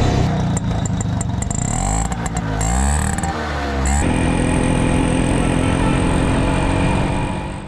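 Auto-rickshaws driving through Peshawar traffic, their small engines buzzing and revving loudly and close by, with rattling clatter and passing vehicles in a continuous busy street din.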